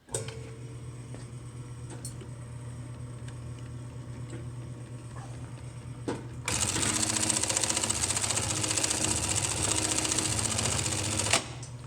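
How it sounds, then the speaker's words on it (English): An industrial sewing machine fitted with a titanium-coated SK1 needle stitches through many layers of 5100 lb nylon webbing, a quiet hum that turns into a loud, rapid, steady clatter for about five seconds before stopping. "the titanium coat reduces the heat buildup on sewing, many layers of webbing"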